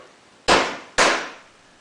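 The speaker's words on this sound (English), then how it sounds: "Everyone has heard of a hammer and a nail, right?" A hammer drives a nail into wooden boards with two sharp, ringing strikes about half a second apart, each decaying quickly, close by and alone.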